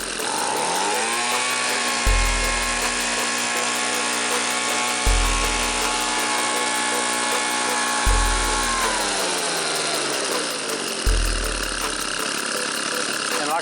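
A small two-stroke engine on a cheap garage-sale leaf blower idles steadily, then revs up to wide open throttle in four evenly spaced bursts roughly every three seconds, loud and close, with a constant high whine throughout.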